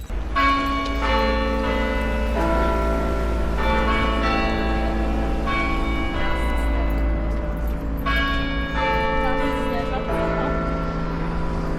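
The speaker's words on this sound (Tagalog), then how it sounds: "Kapag tumunog ang mga kampana na ito, rinig sa malaking bahagi ng bayan" Cathedral church bells ring out in a steady, resonant peal, several bells sounding in repeated sequences with long ringing overtones over a low background rumble, in Cobh, Ireland.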